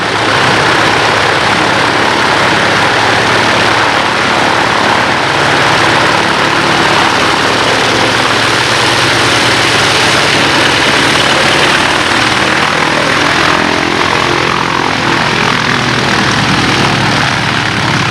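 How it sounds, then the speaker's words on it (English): A radial-engine propeller aircraft flies past at a fly-in, its engine a loud, continuous rumbling roar that holds steady throughout with no talk. "Round engines rule."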